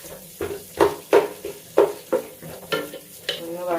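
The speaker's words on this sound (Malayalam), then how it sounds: "ചൂടായിട്ട് നമുക്ക് ഈ ഉള്ളി ഇതിലേക്ക് ഇട്ട് കൊടുക്കുക" Onions being stirred in hot oil make a run of close, rhythmic scraping strokes, roughly eight of them, over a soft sizzle in a cooking pot.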